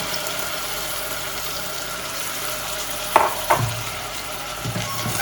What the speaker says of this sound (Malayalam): ആ അരി ഒന്ന് ഈ ഉള്ളിയിലിട്ടിട്ട് ഒന്ന് വഴറ്റുക, നന്നായിട്ടൊന്ന് വഴറ്റിയെടുക്കുക